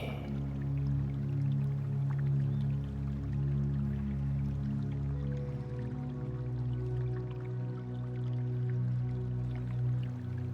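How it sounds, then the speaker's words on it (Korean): Steady flowing water with soft drips and trickles runs throughout at a moderate, even level, alone with no voices, under a low continuous tonal hum. "물소리를 들으며"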